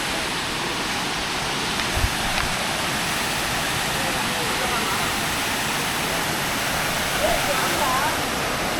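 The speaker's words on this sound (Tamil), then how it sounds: "ஒரு சின்ன வாட்டர் ஃபால்ஸ்" A small waterfall with only a little water, heard along an off-road trail in Vagamon, gives a steady broadband rush that stays even throughout, with a few faint voices and brief bumps in the background.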